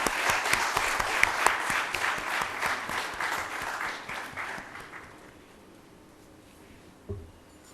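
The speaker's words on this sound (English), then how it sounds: "Let's have another round of applause for Ami." Another round of audience applause for a prize winner at a scientific course closing ceremony, full clapping that gradually thins and fades over about five seconds into near silence, with one soft knock near the end.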